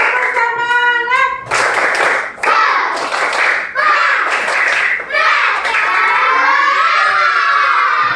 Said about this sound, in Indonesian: Tepuk semangatnya mana? 1, 2, 3. Tepuk semangat.